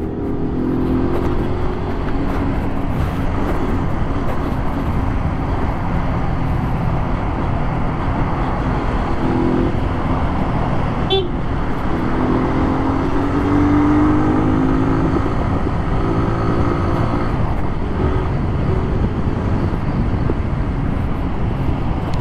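A 2020 Kawasaki Z125 Pro SE motorcycle accelerates in traffic between cars, its small engine droning steadily and close against wind and road noise, with no talking.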